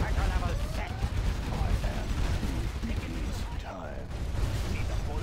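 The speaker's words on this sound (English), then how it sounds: "Gun barrel spinning." Rapid, continuous rotary-barrel gunfire in a real-time strategy game, forming a dense mechanical rattle amid battle noise and unit voice lines.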